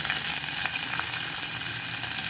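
Garlic and onion fry in oil in an open pressure cooker for manathakkali kuzhambu, a loud, close, continuous hissing sizzle with no break.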